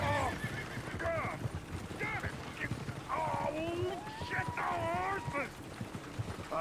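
Horse in the Western video game Red Dead Redemption 2 whinnies several times over steady clip-clopping hooves, close and fairly loud, with faint voices murmuring underneath.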